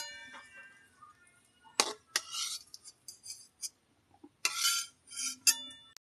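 A kadai (wok) set down on a stovetop while cooking a cauliflower, potato and egg curry, giving a few sharp metallic clanks and clinks in separate bursts, fairly close, with quiet gaps between and no talking.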